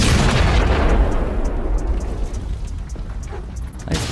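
Atomic bomb explosion sound effect: a loud, deep rolling boom that starts at full force and slowly decays into a long rumbling roar with crackles.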